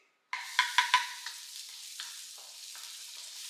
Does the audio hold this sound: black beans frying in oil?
yes